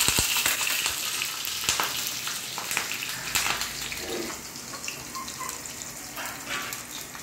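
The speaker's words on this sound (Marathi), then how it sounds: "तेल गरम झालं, मोहरी जिरे टाकते, हिरवी मिरची टाकते" Mustard seeds, cumin and green chilies crackling in hot oil, a steady close sizzle dotted with quick pops and spits throughout, with no talking.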